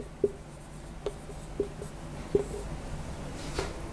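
A pen taps and scratches on paper in a few short, sparse strokes, close and quiet against a faint room hiss.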